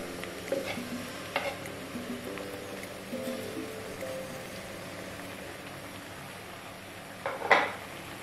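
Marinated chicken for a Bheemavaram-style Raju Gari kodi pulao is stirred in a pan with onions. It sizzles and fries steadily, with scattered clinks and scrapes of a utensil against the pan throughout.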